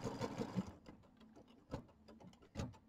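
Embroidery machine sewing a small trapping stitch, a brief run of quick mechanical needle taps followed by faint intermittent clicks, quiet and close.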